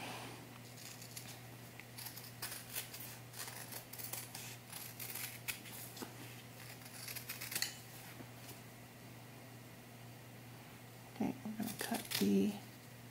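Scissors snip through faux suede fabric for a doll vest in quiet, irregular bursts of close cutting and rustling, with soft handling noises and a faint steady hum in the background.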